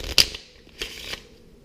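A deck of playing cards gets a quick shuffle during a close-up card trick, heard as a short riffle followed by two softer card flicks, nearby and with no talking.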